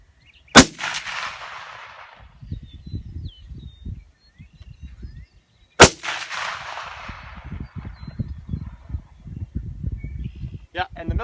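A Mosin M38 bolt-action rifle fires hand-loaded rounds outdoors, two loud, sharp cracks several seconds apart, each trailing off into an echo, with people talking quietly between the shots.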